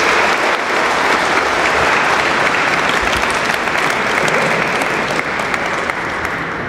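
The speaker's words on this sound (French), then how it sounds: "Je pense qu'on peut vraiment l'applaudir." Loud, dense applause from a large crowd at a church centenary celebration, sustained and even for several seconds.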